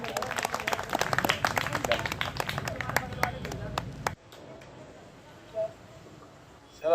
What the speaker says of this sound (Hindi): बहुत जोरदार तालियों के साथ स्वागत करें सर का